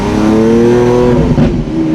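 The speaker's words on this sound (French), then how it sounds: "J'adore le bruit du V12, c'est exceptionnel." A Lamborghini Centenario V12 revs hard through its exhaust, loud and close, with a sustained howl that briefly dips and then climbs again.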